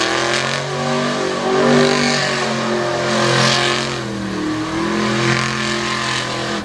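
Monster truck engine revving hard at a Renegade MTT competition in Brownstown, Indiana, the rookie truck Barely Tame smoking with rear steering trouble; a loud, continuous roar that rises and falls in repeated surges, with no talk over it.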